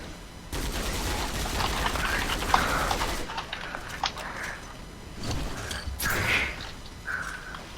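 Gunfire in Counter-Strike Online 2 zombie house mode on the Militia House map: dense, ragged bursts of rapid shots crackling almost continuously, with a brief lull midway before more volleys.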